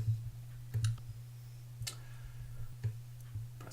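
Several light clicks from pressing an add button on a home automation controller, spaced irregularly over a steady low electrical hum.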